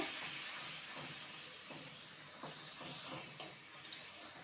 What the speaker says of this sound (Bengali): আর টমেটো আদা কাঁচা লঙ্কা বাটা দিয়ে দেবো ভালো করে কষিয়ে নেব